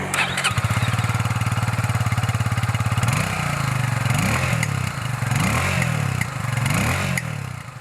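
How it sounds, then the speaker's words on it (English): Retro-style single-cylinder motorcycle engine starting and running close by, a loud, steady thumping exhaust note with brief rises and falls as the throttle is blipped, heard alone without talk. "the exhaust note isn't the typical single-cylinder buzz"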